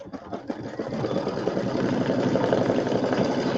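An embroidery sewing machine stitches out quilt block number 7, a steady close whirring hum with rapid needle chatter that builds slightly and then holds even throughout.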